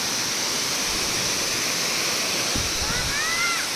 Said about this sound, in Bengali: লম্বাই ঝর্ণাটা।